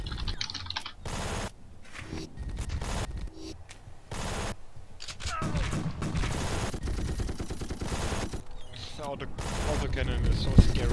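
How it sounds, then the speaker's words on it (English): Autocannon fire in the game The Red Solstice: repeated loud, rapid bursts of heavy rounds arrive in short volleys spread through the clip, over game ambience with occasional voices in between. "Autocannon is so scary."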